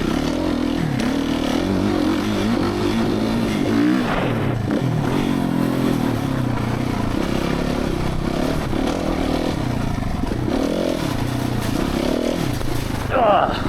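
A Suzuki RMZ450 dirt bike engine runs steadily while being ridden on slippery ground, a loud, close, continuous rumble with slight throttle swells and clattering.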